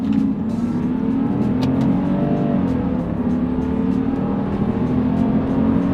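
A Mercedes W140 S600 sedan's V12 engine revs up hard through first and second gear, a loud, steady rising drone heard from inside the car.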